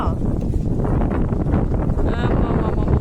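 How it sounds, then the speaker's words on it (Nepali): Strong wind roars and buffets the microphone in a steady, loud low rumble that never lets up, in a Nepali village. "हावा यस्तो चलेको छ नि, मलाई उडाइ लान्छ होला।"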